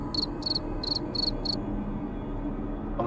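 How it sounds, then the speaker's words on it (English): A single cricket chirps five short, bright trills in quick succession, then falls silent over a faint steady background hum. "Did anyone else hear a cricket?"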